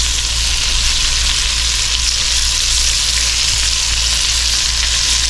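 Onions sizzle loudly and evenly in a hot pan, a dense unbroken frying hiss with a low steady hum underneath and no talk.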